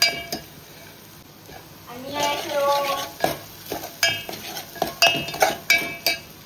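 Agri masala cooks in a pot while a metal spoon stirs and clinks against the sides in repeated sharp strikes over a gentle sizzle, with a brief spoken voice partway through.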